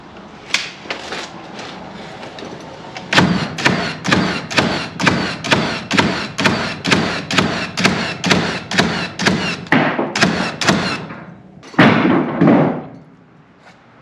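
Nail gun from AEG firing nails into wooden framing studs, a fast regular string of about twenty loud punchy thuds, then a brief pause and a few more shots before the sound fades.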